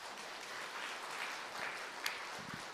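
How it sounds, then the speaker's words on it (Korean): Steady applause from a church congregation at a Sunday service, moderately loud and even throughout, with a faint sharp knock near the end. "박수해 주시기 바랍니다"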